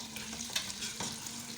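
Potatoes frying in a pan for aloo baingan sabzi give a steady, close sizzle with a few faint stirring clicks. A low hum runs underneath.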